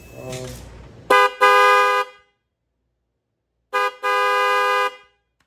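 Two loud, blaring blasts from an aftermarket Moto Horn 2 motorcycle horn, each a short toot followed by a longer sustained honk, separated by silence, close and harsh, with faint talk beforehand.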